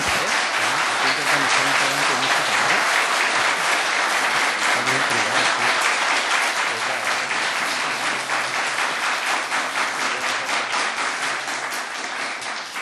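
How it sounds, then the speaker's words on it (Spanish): A parliamentary plenary chamber fills with sustained, loud applause from many members, a dense roar of clapping that barely fades across the whole stretch, with faint voices low underneath. "No es habitual que se aplauda en la sesión, pero creo de verdad que el hecho merece la pena, así que gracias por los aplausos."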